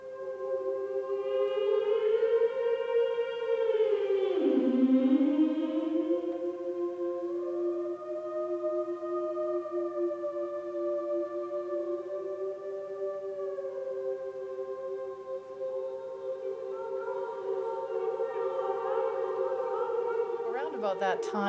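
A choir sings the choral piece Snowforms in sustained, slowly gliding lines that swell and dip, clear and even, with no talk over it.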